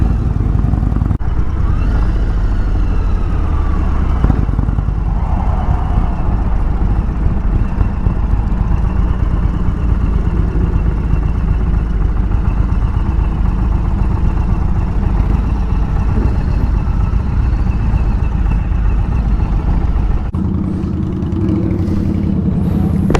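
A 2021 Indian Chieftain Elite motorcycle rides along with its engine droning steadily and loudly, mixed with heavy wind rush throughout, dropping slightly in the last few seconds.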